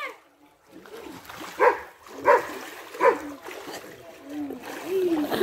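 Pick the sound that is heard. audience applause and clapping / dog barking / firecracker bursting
dog barking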